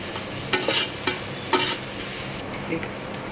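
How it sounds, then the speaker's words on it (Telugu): Chopped coriander being stirred into a pot of vegetable biryani with mint, a few brisk scraping strokes over a faint steady sizzle, close and alone with no talking. "కొత్తిమీర, వేసుకొని బాగా కలుపుకోవాలి."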